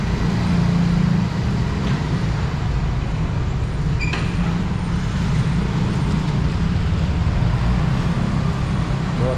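Steady broadband road traffic fills a large parking lot at Botania in Batam Center, Batam: a continuous near rumble of car and bus engines passing and idling, with no speech.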